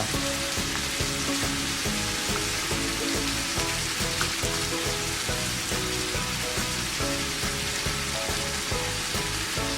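Ground beef browning in a pan for an Italian meat and tomato sauce, a steady close sizzle and crackle of frying meat that continues throughout with no talking.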